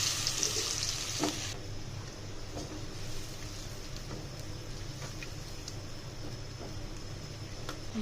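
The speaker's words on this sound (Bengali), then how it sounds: "মশলাগুলো তেলের মধ্যে দিয়ে দেবো দিয়ে একটু ভালোভাবে কষিয়ে নেব" Spices, a paste of garam masala mixed with water, frying in hot oil. A loud hiss at the start settles into a steady, moderate sizzle with a few faint clicks, and no voices are heard.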